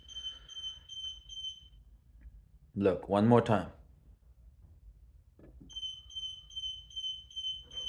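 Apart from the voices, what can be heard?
Ryobi garage door opener beeping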